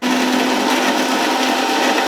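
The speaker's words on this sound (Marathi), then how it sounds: "चला मस्त मसाला बारीक करून घेऊया." An electric mixer grinder grinds spice masala paste for spicy Shipi Amti, a steady, loud, continuous whir with a constant hum that runs unbroken for about two seconds before stopping abruptly.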